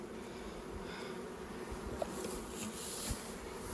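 Honey bees swarm around beehives while honey is pulled using fume boards and shaken combs, a steady, dense buzzing hum close by with no talking.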